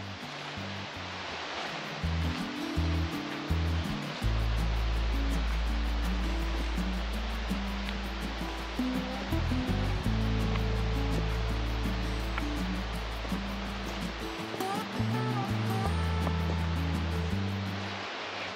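Loud, steady rushing water roars from close by along a stream on the Black Forest Trail in the Algerine Wild Area, a dense white-noise wash filling the whole stretch.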